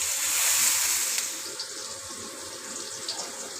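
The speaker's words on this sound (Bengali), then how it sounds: "এর ভিতরে দিয়ে দিব বড় সাইজের দুটো পেঁয়াজ। পেঁয়াজটাকে লাল করে ভেজে নিব।" Two large onions fry in about a quarter cup of oil in a pan, giving a loud, hissing sizzle that starts strongly and then settles into a steadier, softer crackle.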